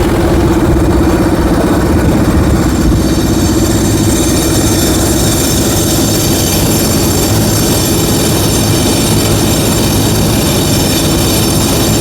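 Steady engine drone with a low, even hum and a persistent mid-pitched whine, loud and continuous throughout with no talk, matching a tractor running on a Gujarat farm during unseasonal rain.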